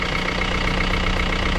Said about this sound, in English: Starting the engines for the first time after 3 months. This one started right up.